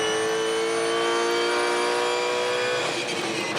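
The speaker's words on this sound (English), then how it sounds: "you can hear those rear wheels and the drive line we call backlash" From inside a Supercars race car during practice at Ipswich, a loud, steady whine of drivetrain and gears fills the cabin, rising and shifting slightly as the rear wheels and drive line clatter under load.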